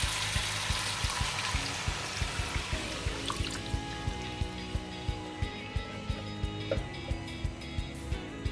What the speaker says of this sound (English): And next, I'm going to add about 300 ml of water.